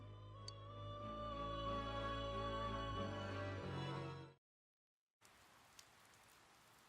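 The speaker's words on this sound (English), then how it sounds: "It started raining." Steady rain in Persona 4 Golden pours as a dense, even wash for about four seconds, cuts to brief silence, then returns as a softer, grainier patter with a couple of faint ticks.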